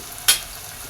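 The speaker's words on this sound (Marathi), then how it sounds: "हे यात टाकून घेऊ आता आणि हे पण परतून घेऊ आता यात थोडीशी हळद टाकायची" Turmeric tipped into a hot pan of spices (star anise, cloves, black pepper) being sautéed for Marwari-style khichdi, a single brief sizzling hiss that flares up then settles quickly.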